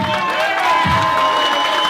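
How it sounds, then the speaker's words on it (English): Crowd cheering and applauding at an indoor professional wrestling show, honoring a referee in his final match; a steady, loud wash of clapping and shouts that fills the whole moment. "Let's all give a round of applause to this man for a great career as a referee."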